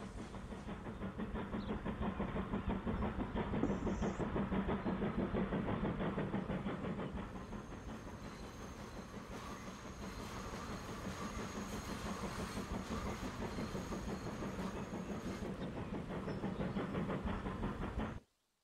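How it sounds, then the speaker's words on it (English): A passenger train in the video game Transport Fever 2 rumbles steadily past with a continuous low roar and rhythmic wheel clatter, holding at a constant loud level before cutting off abruptly. "Passenger train's making its way through."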